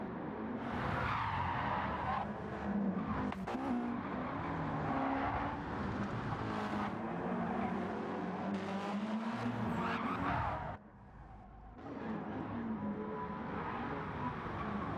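A race car spins off the final turn of a GTO time trial, with long screeching tire skids and engine noise heard at a distance, a brief drop in sound, and then more tire noise.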